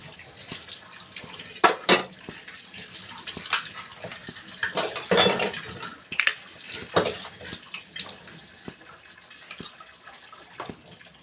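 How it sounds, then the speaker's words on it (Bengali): Dishes washed by hand under a running tap: water splashes in uneven bursts, with sharp clinks and knocks of crockery and utensils scattered throughout, fairly close and with no talking. "আমার এই বাসন কটা ধোয়া কমপ্লিট হয়ে যাচ্ছে।"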